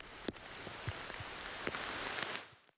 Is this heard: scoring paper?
no